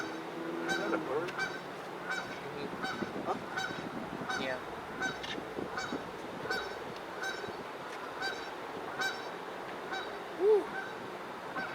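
Geese honk repeatedly in short, moderately distant calls outdoors during the historic move of the Battleship New Jersey, mixed with a low background hum while people briefly speak nearby.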